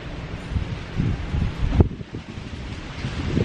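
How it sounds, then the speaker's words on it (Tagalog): Strong wind gusts outdoors in the Philippines, roaring into the microphone in uneven surges with a brief sharp rustle partway through. "Wow, lakas ng hangin."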